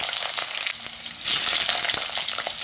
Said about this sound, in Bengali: এবার শুকনো লঙ্কা আর 5 ফোড়নটাকে ভালো করে নেড়ে চেড়ে মিশিয়ে নিয়ে এর মধ্যে এবার কেটে রাখা আলুগুলো দিয়ে দিচ্ছি।